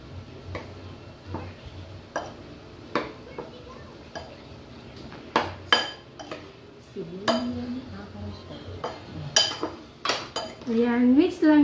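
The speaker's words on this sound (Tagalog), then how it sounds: "Tas mix natin." Ingredients stirred with a utensil in a pan, pepper just added, giving repeated scraping clinks of metal on cookware at close range, with brief voice-like tones later on.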